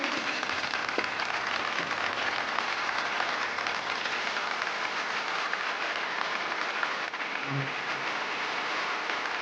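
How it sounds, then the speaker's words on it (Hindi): An audience at a show claps steadily to welcome a fire performer, a dense, even wash of applause that fills the space without pause or talking. "तालियों से स्वागत कीजिए प्लीज"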